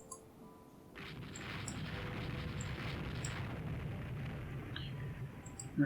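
Naval guns firing in the Rule The Waves 3 naval combat game, heard as a faint, steady low rumble of distant cannon fire with scattered brief pops.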